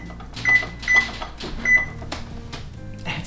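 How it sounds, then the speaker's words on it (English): A kitchen timer is set while homemade granola bakes: three short electronic beeps close by, among faint kitchen clatter and soft handling noises. "And set the timer for the first 30 minutes."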